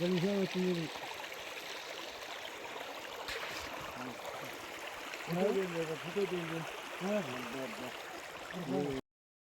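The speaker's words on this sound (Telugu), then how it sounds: "చూడండి కొండలో నుంచి వస్తున్నటువంటి సెలయర్ ఇది" Mountain stream tumbling down from the hills, a steady broadband rush of flowing water heard close, with someone talking over it throughout.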